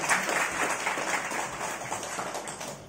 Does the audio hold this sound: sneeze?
no